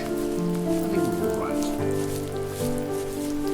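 Steady rain patters across the landscape in the video game The First Tree, an even hiss running throughout beneath sustained tonal music, with no voices.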